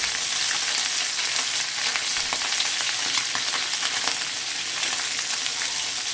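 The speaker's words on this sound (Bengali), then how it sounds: "ভালো করে এবার ভেজে নেব" Steady, loud sizzling and crackling of khoira fish frying in hot oil, continuous hiss with scattered pops throughout.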